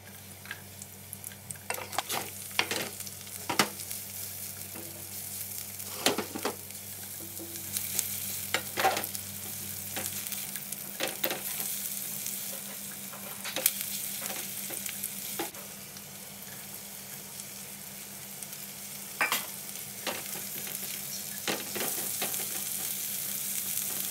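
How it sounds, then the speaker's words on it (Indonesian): Garlic, shallots and chili are stir-fried in a pan, giving a soft steady sizzle broken by sharp clicks and scrapes from the spatula, with a low hum underneath for the first ten seconds. "Tumis bawang putih, bawang merah,"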